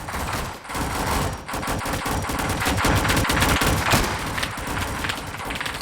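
Gunfire in a Roblox PVE map comes in rapid automatic bursts, with dense rattling shots and a few short gaps, steady and fairly loud throughout.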